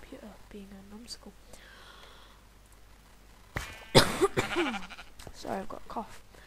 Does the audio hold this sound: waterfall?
no